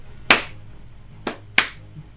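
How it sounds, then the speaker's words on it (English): Hands clapped close into a microphone: three sharp, loud claps at uneven intervals with no talk. "Stop clapping into the mic."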